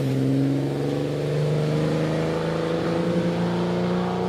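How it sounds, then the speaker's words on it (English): A BMW-powered TT replica vintage sports car races at the Prescott hill climb, its engine droning steadily at high revs and shifting pitch as it passes. "That was the BMW powered TT replica."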